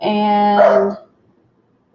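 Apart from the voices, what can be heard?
dog barking at a man across the street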